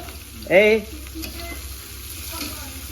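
Bird's eye chilies and large chilies fry in a pan with a soft, steady sizzle, and a short voice-like sound rises briefly near the start.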